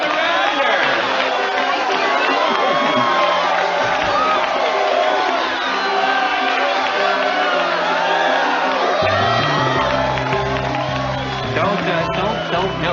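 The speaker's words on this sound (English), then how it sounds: "Don't milk the applause like that." A television studio audience claps, whoops and cheers at length for comedian Gilda Radner's entrance, a dense, loud and steady roar of crowd noise lasting throughout.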